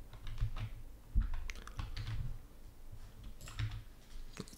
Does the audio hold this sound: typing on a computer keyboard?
yes